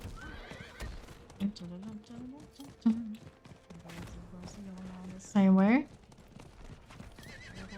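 A horse in Diablo IV, an ice-armored mount, clip-clops along with hooves and lets out a loud, rising whinny partway through, set over game music and a voice talking.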